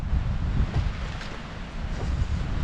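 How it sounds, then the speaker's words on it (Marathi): Blustery wind buffets the microphone at the seashore, with the low wash of waves underneath; no voices. "मस्त समुद्र किनारा"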